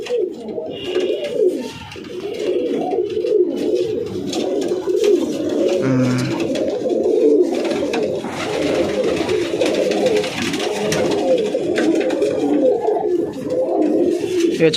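Pigeons coo steadily in a loft at a home, soft throaty calls overlapping continuously, with a brief flutter and faint background voices.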